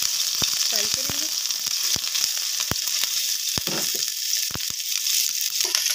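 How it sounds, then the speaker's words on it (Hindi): Garlic ginger paste sizzles in desi ghee in a pan, a continuous close frying hiss broken by sharp clicks and scrapes of stirring. "इसमें हम लहसुन अदरक की पेस्ट डालेंगे, इसको हल्का सा इसमें फ्राई करेंगे।"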